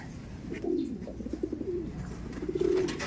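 Pigeon cooing, from a crested stock bird kept in a loft; several low, throaty coos come in repeated bursts, close by and fairly clear.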